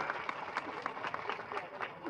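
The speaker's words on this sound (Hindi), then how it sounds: "जोरदार ताली बजा के स्वागत करा इजहार का" A crowd at a political rally bursts into hearty clapping for a guest, dense uneven hand claps with scattered louder hits, moderately distant and mixed with faint crowd voices.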